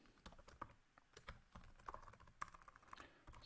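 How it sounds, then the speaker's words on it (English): Quiet, irregular clatter of keys on a computer keyboard while coding in C++, bursts of quick taps with short pauses, close and alone. "I'm typing too many garbage things here"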